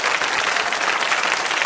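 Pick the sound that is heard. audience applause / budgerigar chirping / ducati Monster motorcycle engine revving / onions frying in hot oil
audience applause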